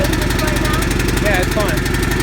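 A 389 cc Champion generator engine runs steadily close by, a loud, continuous mechanical drone with a fast rhythmic pulse, while someone talks faintly over it.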